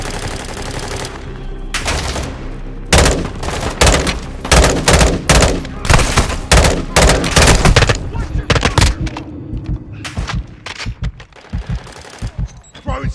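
Heavy gunfire in the Call of Duty: Modern Warfare II video game, with loud, close bursts of automatic rifle fire and single shots in rapid runs, under game voices and combat chatter.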